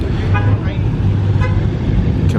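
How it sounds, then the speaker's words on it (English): V8 Dodge Charger and Camaro cars pulling in at a Temecula car meet make a deep, steady engine rumble nearby, with a brief horn-like toot and people talking over it. "Camaro, the V8 gang right here, pulling in."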